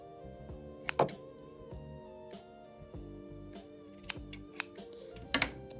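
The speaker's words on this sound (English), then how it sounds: "Cut this excess string off" Scissors snip off excess string during a sewing thrift flip, a few faint, crisp clicks and cuts spread over several seconds in a quiet room.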